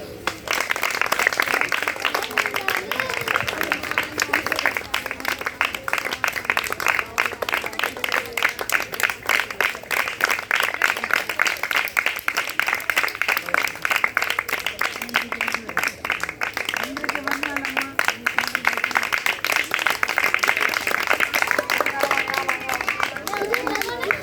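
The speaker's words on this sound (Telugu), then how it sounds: "మీరందరూ క్లాప్స్తో సహకరించవలసిందిగా కోరుతున్నాం." An audience of children and adults at a church children's meeting claps steadily for a long stretch, a dense, even patter of many hands with some crowd murmur mixed in.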